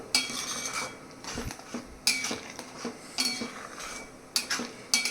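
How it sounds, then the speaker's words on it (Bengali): A spatula scrapes and clinks against a pan as frying masala with sugar and a little chilli powder is stirred for paneer butter masala, giving repeated rhythmic metallic scraping strokes, close and fairly loud, with a soft sizzle underneath and no talking. "চিনি দিয়ে এটাকে মিক্স করে নিচ্ছি ভালো করে"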